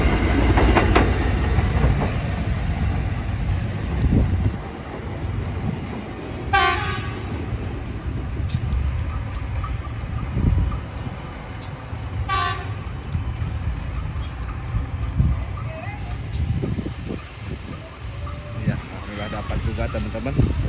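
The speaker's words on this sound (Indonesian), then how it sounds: "tadi itu kereta ukur Arjuna ya" Arjuna track measuring train passing straight through Cicalengka station, a loud rumbling roar with rail clatter throughout and two short horn toots, close and sustained.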